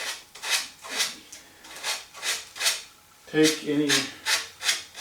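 Hand sanding with 400 grit sandpaper removes burrs from aircraft parts on an RV-10 vertical stabilizer build, producing rhythmic close rasping strokes about twice a second, with a brief muttered word partway through.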